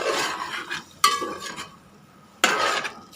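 Food is mixed in a pot with a utensil, giving several distinct scraping and clattering strokes separated by quieter pauses, close and moderately loud, with no talk.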